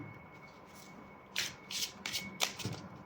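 Tarot cards are shuffled by hand, a quiet rubbing followed by several quick, crisp riffling bursts close up.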